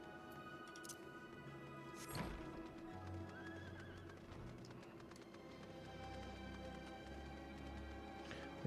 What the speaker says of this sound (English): We got to use the subtle horse mount.